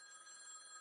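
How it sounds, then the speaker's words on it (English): Short electronic telephone ring from the video game Z.A.T.O., a steady tonal trill that holds for under a second at low volume. "It's a phone, maybe?"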